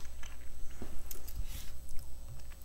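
Caramel is chewed close to the mic in short bursts of sticky, squishing mouth sounds with a few crisp bites, heard alone against a quiet room.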